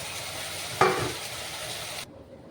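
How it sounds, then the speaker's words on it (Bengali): Water poured into a sizzling spice masala for a small-fish curry gives a sharp hissing burst against a steady frying background, then quickly settles and fades to quiet. "মশলা দেওয়ার জলগুলি হালকা দিয়ে দিচ্ছি।"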